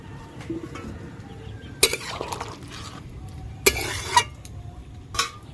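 Prawns are tipped into a pan of ridge gourd and water for a Bengali curry, giving a soft simmering sizzle broken by three sharp bursts of utensil clatter and stirring, fairly close.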